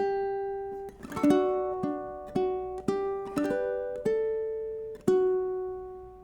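A plucked ukulele played slowly, single notes and chords ringing out one after another with gentle decay, close and clear, no talking.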